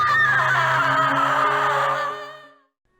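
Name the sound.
woman screaming in Harvester video game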